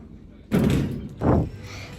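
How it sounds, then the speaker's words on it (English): Otis Gen 2 lift doors at a TK Maxx store sliding shut, heard as two loud close thuds about a second apart, the second briefly louder, against a quiet indoor background. "Doors closing."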